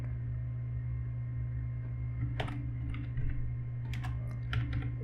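A file name typed on a computer keyboard: a few soft key taps in short bursts over a steady low electrical hum, fairly quiet and close.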